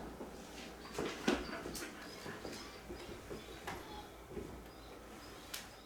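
A dog whimpers softly in a house, with several brief high whines and a few scuffs and taps spread over the quiet, faint background.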